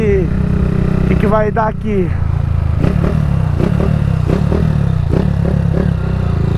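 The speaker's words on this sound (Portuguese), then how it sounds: "uma acelerada de peito pra ver essa moto se ela vai cortar com a relação de 150 ou não" A Honda Fan 160 motorcycle with a 150 gear ratio and a 4 mm cam is ridden hard, its engine loud and close as it revs up, rises and falls in pitch, then settles into rhythmic pulsing, with someone briefly talking over it.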